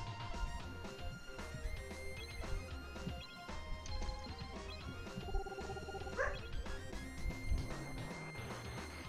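Retro SNES action RPG Brain Lord with in-game dogs barking and yipping repeatedly over looping chiptune music and synthesized effects, the yaps scattered and fairly loud through the game audio.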